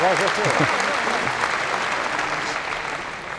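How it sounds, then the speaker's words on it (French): Crowd applause at a boxing bout in Le Cannet, a steady wash of clapping that slowly fades, with a voice briefly heard at the start. "applaudissements, hein"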